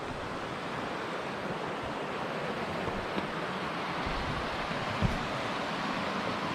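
The Virgin River flows steadily beside a hiking trail, a loud, unbroken broadband rush of water close by with a faint breeze and no voices.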